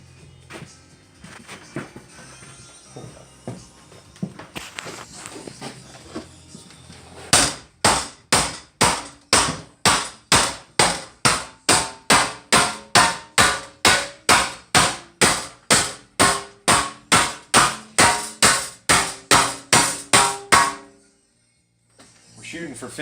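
A long run of about thirty heavy, evenly spaced hammer blows strikes a clamped metal seat part being bent, each impact sharp and ringing, loud and close, after a stretch of quieter workshop sounds.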